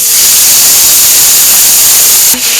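Steady, loud hiss of white cooking wine hitting a hot pan while deglazing salmon croquettes, a continuous broad sizzle that holds almost evenly throughout, with a small clunk near the end.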